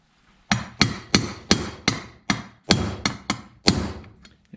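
A bearing is tapped into an ATV or dirt bike crankcase with a socket, giving about eleven close, loud, evenly spaced metallic knocks, each ringing briefly before the next strike.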